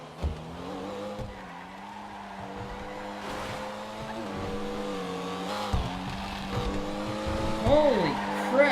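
A Comet SR sports car in GTA 5 revs through mountain corners, its engine tone rising and shifting with gear changes and a brief tire squeal near the end, while someone talks excitedly over it.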